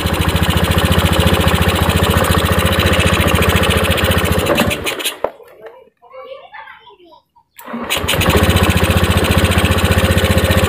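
A Honda Beat ESP scooter with an air-screw adjustment that makes no difference idles loudly and steadily, cuts out to near silence with faint voices, then is started again and settles back into a strong, even idle.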